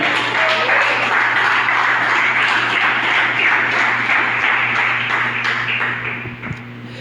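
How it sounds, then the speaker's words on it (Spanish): A church congregation claps during a Spanish-language sermon, a sustained, fairly loud broadband wash of applause over a steady low hum that eases off slightly near the end. "Denle un aplauso al Señor."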